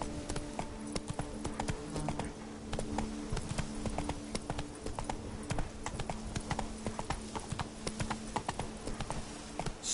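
The horse Roach's hooves clip-clop steadily across ground in Witcher 3 at a walking rhythm, close and even, with a low game ambience underneath.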